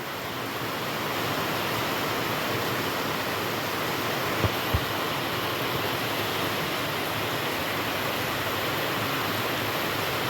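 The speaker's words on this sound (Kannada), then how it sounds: "ಇಲ್ಲೇ ಭಾಳ ಜೋರು ಮಳೆ ಆಗತ್ತೈತಿ ರೀ." Dense, continuous roar of heavy rain in Gokak, broad and steady throughout, with a couple of faint knocks in the middle.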